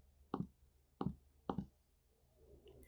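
Three sharp, separate clicks from a laptop trackpad, pressed to right-click in Revit modelling software. They are close and clear against a quiet background, with a soft rustle near the end.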